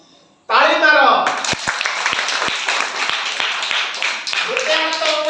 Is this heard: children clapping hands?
yes